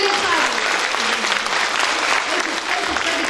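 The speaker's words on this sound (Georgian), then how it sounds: "ტაში დაუკარი, ძალიან" Audience applause at a children's certificate ceremony during a summer recital evening of a studio and dance ensemble, steady dense clapping from a crowd throughout, loud and continuous.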